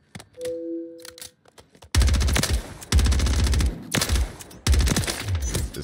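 HRM-9 submachine gun firing in Warzone 3, loud close bursts of rapid automatic fire in three main strings after a quiet opening with a short tone, each burst clipped off sharply.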